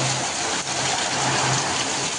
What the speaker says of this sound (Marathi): जोरात पाऊस येतोय.